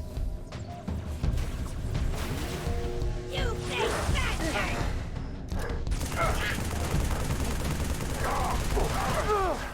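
Assault rifle fire in Halo 3: ODST, bursts of rapid automatic shots mixed with energy weapon whines, crashes and chaotic combat noise, fairly loud throughout.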